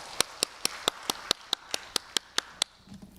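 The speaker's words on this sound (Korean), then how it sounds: "박수로 환영하겠습니다." Church congregation clapping to welcome a speaker: a dozen sharp, evenly spaced claps in a quick steady rhythm, fairly faint, ending abruptly.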